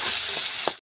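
Onions and tomatoes fry in a pan with a loud, steady sizzle, and a brief stirring knock sounds just before it cuts off.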